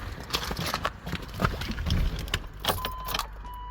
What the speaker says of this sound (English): So right now my truck is dead. I tried to start it and